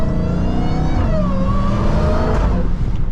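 A Dodge Charger Hellcat engine roars steadily and loudly as the car pulls hard on a wet road in the rain, pitch climbing and dipping as it revs, heard from inside with no talk.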